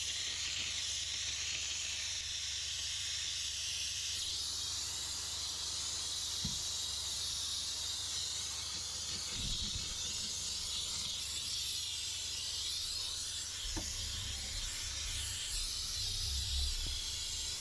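A steam cleaner hisses continuously inside a car, a bright steady spray of steam with a few faint knocks and clicks underneath.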